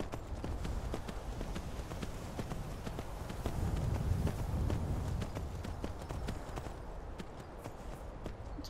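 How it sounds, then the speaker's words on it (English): Horse hooves clip-clopping steadily in the video game Skyrim at night, a continuous close rhythmic clatter of steps at moderate loudness with no talk over it. "A horse."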